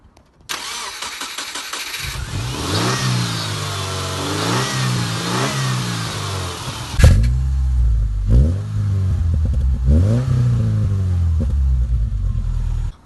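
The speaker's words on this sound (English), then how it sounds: "Let's look and listen to what an engine sounds like starting up." A car engine cranks briefly, catches with a loud burst and revs up and down several times before easing back toward idle, close and steady throughout with no voices.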